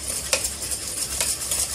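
Amul cream being whisked in a large open bowl for a fruit cream dessert: a continuous brisk swishing and scraping with a few sharper clinks of the whisk against the bowl, close and steady, with no voices.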